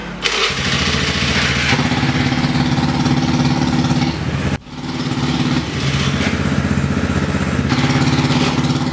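A custom fat-tire motorcycle engine, started by voice command, cranks and catches, idles roughly, cuts out briefly, then starts again and keeps running with a loud, steady rumble.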